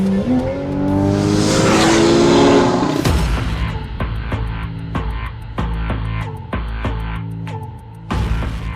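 A Porsche 3.8-liter engine with sport exhaust and valves open revs up hard with a rising howl and then shifts, and the loud exhaust keeps snarling through quick gear changes on a racetrack.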